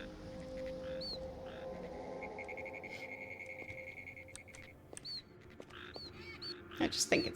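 Vulture cries in Ultima 9, thin, high, chirping squeaks that come back a few times, fairly faint, over a quiet game background, with louder clattering bursts near the end.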